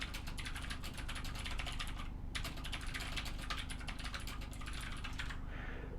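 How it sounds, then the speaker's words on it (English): Steady, rapid typing on a computer keyboard while re-entering text for a safety label, close and clear with even keystroke rhythm, a brief pause near the middle and a softer stretch at the end; no speech. "let's just retype it."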